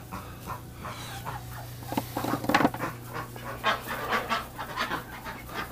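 A dog pants rapidly and unevenly close by, with bursts of breathy huffs over a steady low indoor hum and a few faint bird-like chirps in the background.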